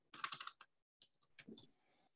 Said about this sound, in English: we're going to start typing in somebody's information